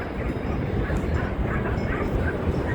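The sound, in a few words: dog barking at busy coastal state park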